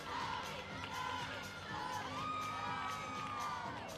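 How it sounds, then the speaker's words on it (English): Illinois gymnastics team chanting and cheering for a gymnast at an NCAA women's gymnastics championship second-round meet in Ann Arbor, a steady roar of crowd voices and whoops from the arena's background. "I love how you can hear the Illinois team in the back chanting for her as well."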